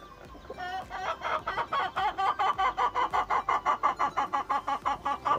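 Farm chickens cluck in a steady, rhythmic string of loud calls close by. A rooster-like crow joins the flock noise, and no one speaks.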